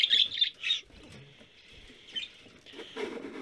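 Budgerigars chirping in their cage, a few faint high chirps and soft twitters with quiet rustling and pauses between.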